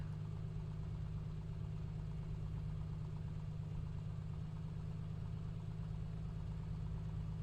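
The engine of an A2A Piper Comanche 250 in Microsoft Flight Simulator idles with a steady, close, low-pitched drone and a constant even hum, with no change in throttle.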